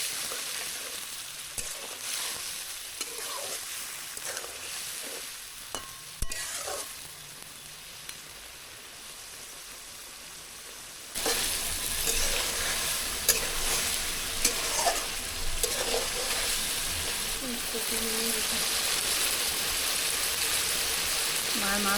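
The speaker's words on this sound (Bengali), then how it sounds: "এই মাছটা ভালো করে কষানোর জন্য মা দিয়ে দিচ্ছি সামান্য একটু পানি" Koi fish sizzles in a pan as it is sautéed, a soft frying sound at first, then a louder, steady hiss and crackle after a splash of water goes in, with occasional stirring.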